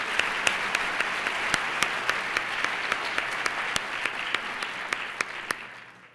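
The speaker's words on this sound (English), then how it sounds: "let's have a round of applause for our national sponsors" Sustained audience applause at the Indiana's Junior Miss 2007 pageant, a steady wash of clapping with sharp individual claps standing out as it fades toward the end.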